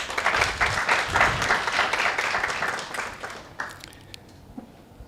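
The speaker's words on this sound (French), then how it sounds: "Je voudrais que vous applaudissiez intensément pour eux" Audience at a sustainable development forum giving strong, dense applause that swells then gradually thins out, ending in a few scattered claps and quiet room noise.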